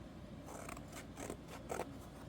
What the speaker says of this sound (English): And I'm just cutting it with my scissors